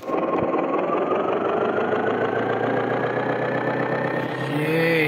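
A farm tractor perched on a slope with its brakes set keeps its engine running loudly and close by, a steady idling rumble whose pitch climbs slightly toward the end.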